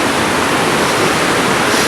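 Guadalupe River floodwater rushes past in New Braunfels, a loud, steady, broadband roar that fills the whole stretch with no break.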